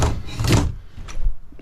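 A flimsy cabin or tent door bangs shut noisily, giving a quick rattling thunk followed by a softer second knock.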